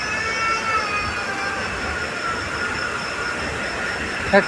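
Steady ambience at Mankapur Junction railway station, a broad continuous rumble and hiss with a faint tonal whine, loud and even throughout, ending with a brief knock, with no clear voices.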